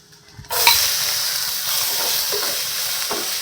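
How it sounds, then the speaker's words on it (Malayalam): Sliced onion dropped into hot oil with fennel seeds and masala, a sudden loud sizzle that then settles into a steady, close frying hiss with a few spoon scrapes as it's stirred. "പെരുംജീരകം, മസാല ഇതെല്ലാം ഇട്ടിട്ട് ഒന്ന് നമ്മൾ ചെറുതായിട്ടൊന്ന് വഴറ്റിയിട്ട് നമ്മളത് സവാള ഉള്ളിയിടാൻ പോവുകയാണ്."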